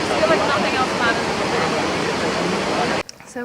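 A waterfall in Bali roars as steady, loud broadband rushing water, close and continuous for about three seconds before cutting off abruptly into quieter ambience.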